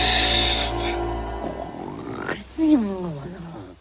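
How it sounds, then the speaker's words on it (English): A cartoon snake snoring, a voice doing a drawn-out, throaty inhale-and-grumble snore followed by a sliding, wavering vocal snort, close and alone. "You're snoring"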